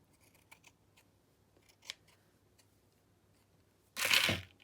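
Scissors cutting fabric lace trim during slow-stitch crafting, a short crisp snipping burst near the end after a few faint handling clicks in a quiet room.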